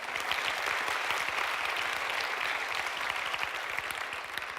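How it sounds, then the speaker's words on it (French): An audience at a European digital women's award ceremony claps steadily, a dense, even wash of applause from a sizeable crowd that holds at the same level throughout with no voices breaking through. "Applaudissements."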